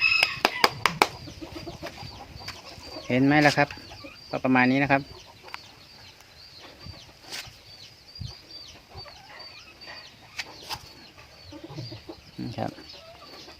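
Chickens cluck and chatter softly nearby in short, scattered bursts, with someone talking in a few brief stretches.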